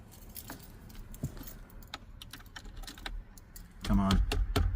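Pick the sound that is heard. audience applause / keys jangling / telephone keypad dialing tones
keys jangling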